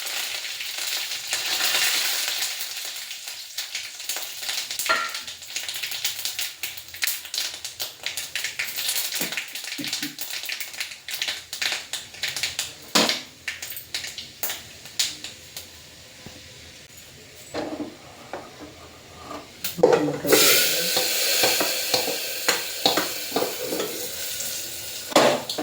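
Fenugreek, mustard seeds and curry leaves fry in hot oil for a salted mango curry, a steady close sizzle dotted with sharp crackles and popping seeds, swelling louder near the end.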